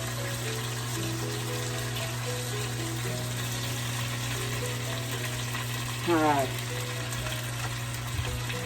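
Chicken pieces pan-frying for pan-fried chicken, a steady, fairly quiet hiss of oil sizzle running throughout, with a brief rising squeak midway.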